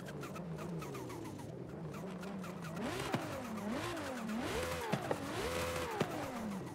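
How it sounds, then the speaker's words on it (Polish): A turbocharged Audi RS6 in the Forza Horizon 5 racing game revs around 3000 rpm, its engine note rising and falling in repeated swells with turbo whistle, faint and steady with a few sharp clicks. "Ledwie 3000 obrotów, słychać turbo."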